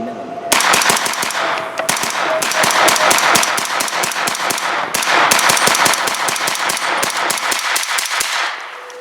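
A preban Colt Model 6450 9mm AR15 carbine fires outdoors in rapid semi-automatic strings, dozens of loud sharp cracks in quick succession with brief pauses between bursts.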